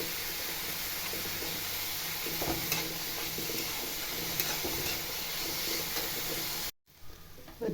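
Masala with green chillies, curry leaves and salt stirred and sautéed in a pan, giving a steady close sizzle with scraping stirs that stops abruptly near the end.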